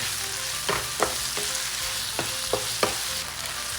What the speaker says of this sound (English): it's time to put in the ground pork.